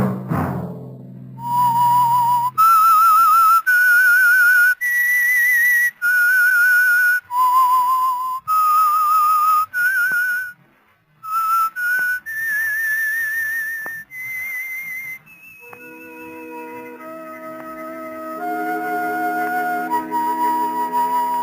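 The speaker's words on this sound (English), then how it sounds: "Let that whistle be your signal for the Whistler each Monday at 9." A solo whistled theme tune for The Whistler radio mystery series, a clear melodic run of sustained, gliding notes with short gaps, heard alone and up close, ending as a sustained orchestral chord swells in beneath it.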